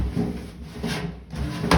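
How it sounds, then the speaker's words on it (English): A sliding vegetable drawer on metal slides in an old grandmother's house kitchen is opened or closed, giving a brief rolling wooden scrape with a sharper knock near the end, close and alone. "these veggie drawers with the slides on them"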